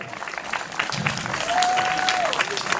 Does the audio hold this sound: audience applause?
yes